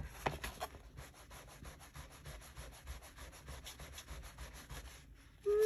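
An eraser rubs out a graphite drawing in fast, rhythmic back-and-forth strokes, faint and close, with no talking.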